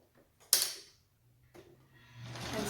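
A Brother 1034D serger runs a single quick stitch with a sharp mechanical burst, then brief whirring and rustling of fabric being handled nearby, with no talking.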